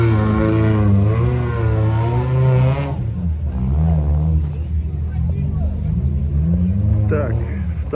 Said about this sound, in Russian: Нивы едут.